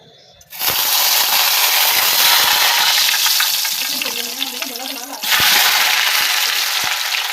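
Potatoes frying in oil left over from frying eggs, a loud steady sizzle that starts abruptly and continues throughout, with brief stirring and a faint voice in the middle.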